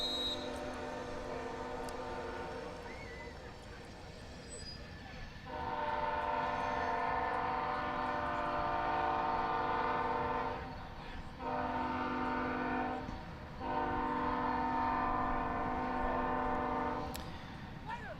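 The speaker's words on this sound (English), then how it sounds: "First train of the night, making its way by the Tomato Bowl." A train passes near the Tomato Bowl stadium during a Jacksonville versus Texas High varsity football game at night, its steady rumble and sustained horn blasts swelling in from about five seconds and holding with short breaks, fairly distant and alone.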